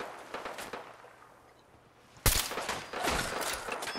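Gunfire from the video game Fallout 4, a dense fusillade of shots that grows louder and more continuous midway, with rapid overlapping bangs and no talking.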